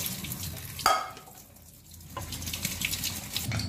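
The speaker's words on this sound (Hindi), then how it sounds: "और फिर से इसको अच्छे से वॉश कर लें।" Water runs and splashes as fenugreek seeds are rinsed in a kitchen, a steady rushing flow with a sharp clank of a vessel and a brief quieter lull midway.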